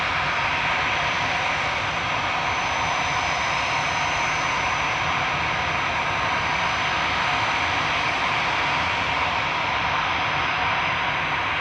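An Air France ATR 72 turboprop rolls down the runway on its takeoff run at Manchester Airport, giving a steady, loud, broadband engine roar that holds evenly throughout with no talking.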